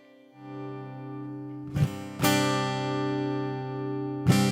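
Electric guitar through an Ortega QuantumLoop effects pedal: a sustained note, then sharp strummed chords ringing out with long, smooth decay, clean and close.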